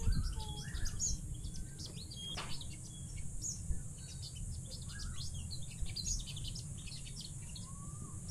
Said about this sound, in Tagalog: Hala, laki ng ibon na yun.